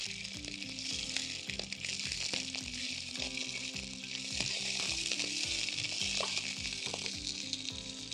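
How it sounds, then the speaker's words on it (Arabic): Sausage sizzles and fries loudly in a hot frying pan, a dense, steady crackle broken by the rhythmic scrape of stirring, with no voices. "والطاسة تبقى سخنة عشان يتشوح معايا وياخد لون حلو"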